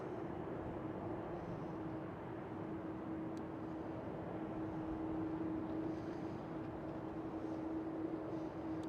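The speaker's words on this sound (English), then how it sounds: "That means it is a 737-900 KLM." A KLM Boeing 737-900 airliner at Schiphol Airport gives a continuous jet roar with a steady whining tone, constant in level from start to finish and heard from a distance.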